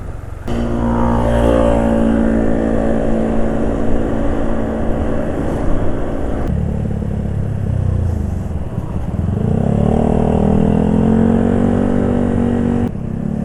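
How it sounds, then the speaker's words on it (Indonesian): A two-stroke scooter engine revs hard and holds at a high, droning pitch, dipping and climbing again midway, loud and close, with no talking. "Kendaraan kalau terlalu gereng gini suaranya tok ya yang keras ya"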